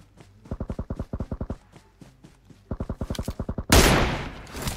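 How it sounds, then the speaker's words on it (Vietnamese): Automatic gunfire between two teams in PUBG Mobile, several rapid bursts of evenly spaced shots, then a loud close blast at the end that fades into rumble. "hai team công nhau rồi, hai team công nhau rồi. Hai team công nhau. Mình sẽ dừng ở đây thôi. Ui, bắn nhau căng thế nhở"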